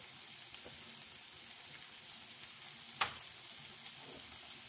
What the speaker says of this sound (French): Ça caramélise un petit peu, c'est des nouilles sautées hein, qu'on fait.